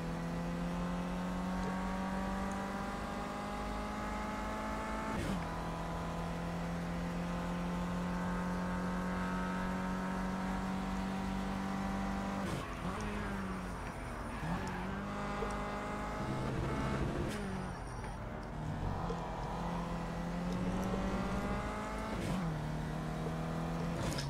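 A Mercedes-Benz A45 AMG race car engine in the Project CARS racing game at Snetterton drones steadily, pitch climbing through the gears with sharp drops at each shift and some lifts for braking.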